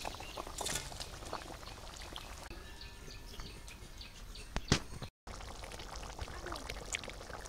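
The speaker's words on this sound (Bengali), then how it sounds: "এখন আমি মাছ দিয়ে দেবো, মাছগুলো দিয়ে দিলাম।" Fish added to a hot cooking pan in a Bengali village kitchen, giving a steady, close sizzling hiss with a few brief splashy bursts and no speech.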